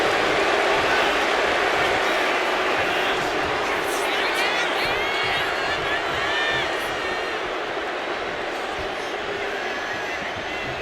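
Video game arena crowd from a WWE 2K25 Stone Cold versus Rikishi No Mercy 2000 match, a steady loud roar of cheering throughout, with a commentator talking over it.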